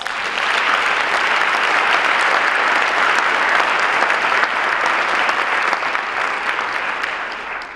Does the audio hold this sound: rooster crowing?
no